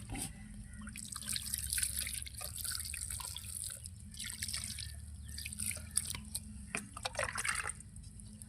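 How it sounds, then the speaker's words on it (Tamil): Water sprinkles and patters softly onto potting soil in uneven bursts and drips, close by and fairly quiet, with no voices. "இப்போ தண்ணி தெளிக்கிறேன்"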